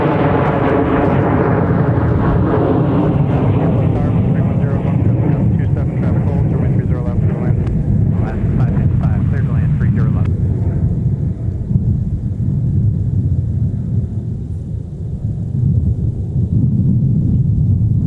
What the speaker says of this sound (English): That E175 departure to Grand Rapids.